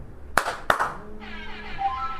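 Two sharp hand claps about a third of a second apart, close and loud, followed by a lost mobile phone answering with a rising electronic siren tone.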